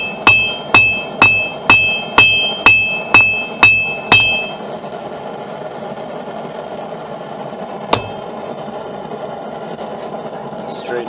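About nine evenly spaced, ringing hammer blows strike a steel knife blade while forging its bevels, close and loud at a steady rhythm, then a steady background hum with one more clank later.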